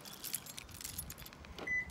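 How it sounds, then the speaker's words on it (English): Keys jangle close by in a few quick metallic rattles outside a tack store, with a faint car or engine hum underneath and no talking. "I'm trying to get my keys."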